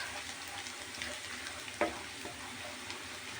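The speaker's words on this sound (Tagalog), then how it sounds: "mainit na yung ating mantika. Ilalagay ko na yung ating garlic." Garlic sizzles steadily in hot cooking oil, a soft, even frying hiss with one brief clink partway through, no talking.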